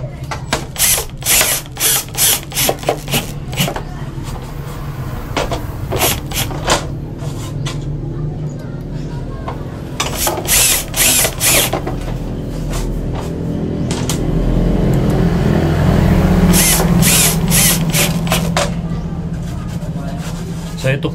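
A power drill drives black screws into Hardiflex board, with repeated close bursts of whirring and ratcheting in short runs, followed by a longer steady drive, while people talk throughout.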